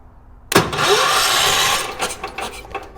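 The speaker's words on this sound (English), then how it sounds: "Very noisy starter motor." A loud, noisy starter motor on a vintage 1980s UTV engine whirs and grinds as it cranks, kicking in suddenly after a quiet moment and running for about two seconds before fading into uneven rattles.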